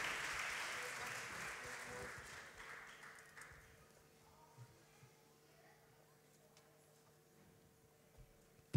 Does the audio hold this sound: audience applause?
yes